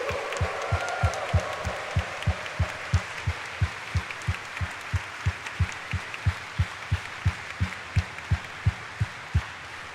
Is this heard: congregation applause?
yes